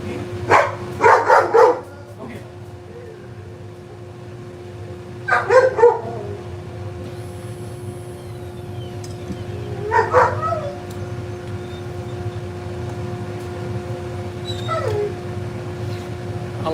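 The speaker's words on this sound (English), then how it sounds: "Two big dogs. They're sitting right next to me." Two big dogs shut inside a house give three separate short bursts of barking and whimpering, spaced several seconds apart, over a steady background hum.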